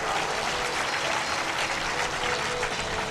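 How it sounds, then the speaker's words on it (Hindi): A crowd at a Hindi religious discourse claps loudly and steadily, dense applause filling the whole moment with no pauses. "जोरदार तालियों से स्वागत कीजिए ना।"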